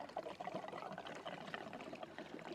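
Gasoline trickling from a small gas can's spout nozzle down into an engine tank, a steady, close, gurgling pour with no talking.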